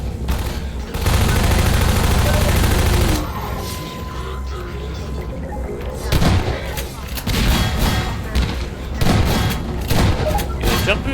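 Half-Life 2 shotgun blasts boom repeatedly in close, heavy bursts amid continuous combat noise, with someone talking over the shooting.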